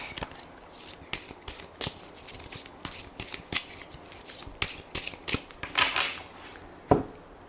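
A deck of tarot cards is shuffled and cut during a daily reading. Soft riffles and brisk slaps repeat close by without talk, building to a louder flurry near the end.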